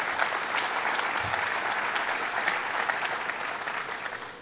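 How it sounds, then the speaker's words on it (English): An audience at a governor's announcement event in Plattsburgh gives sustained applause, a dense even wash of clapping that holds steady and tapers slightly at the end. "So let's give him another round of applause."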